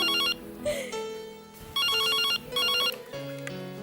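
A telephone rings indoors in repeated electronic bursts with short gaps between them, loud and close, over faint background sounds and no speech.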